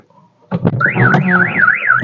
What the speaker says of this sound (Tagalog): So, try naman natin yung sa alarm.